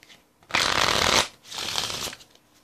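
A deck of playing cards riffled in two close, loud bursts, the first longer than the second, with a short pause between and no talking.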